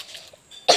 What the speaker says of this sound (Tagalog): Huwag kang ubo ng ubo dyan